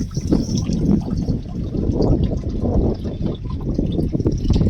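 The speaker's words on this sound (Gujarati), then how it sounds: "અને પાણી ચાલુ થઈ ગયું" Water runs steadily from a tap, a continuous close splashing rush with no talking.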